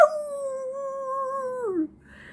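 A dog howls in a long, wavering note with its mouth rounded like an old hound, one sustained close howl that slides downward and fades, then quiet.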